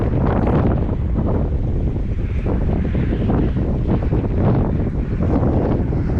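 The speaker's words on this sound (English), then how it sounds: "There's a dust storm coming this way." Strong gusting wind ahead of an approaching dust storm in Mississippi roars and buffets the microphone continuously, a dense low rumble with no pauses and no voices.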